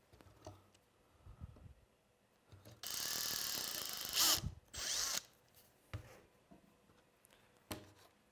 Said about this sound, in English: All right, that should give me one more hole to drill.